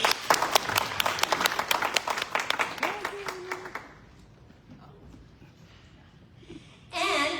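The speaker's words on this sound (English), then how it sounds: "Please round of applause for Dr. Adriana to come to the stage." Audience applause at a global health leadership panel as a speaker is called to the stage, with crisp distinct claps that thin out and fade after a few seconds, followed by brief voices at the end.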